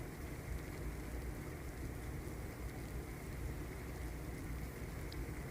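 Steady, dense rain falls throughout a thunderstorm, a constant close hiss and patter with no distinct thunder clap standing out.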